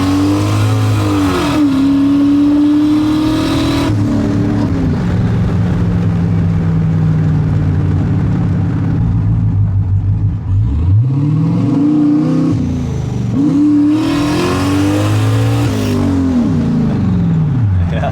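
Turbocharged Chevrolet Silverado pickup engine revving hard under throttle, pitch sweeping up and down in repeated surges, loud and close with a steady drone between pulls.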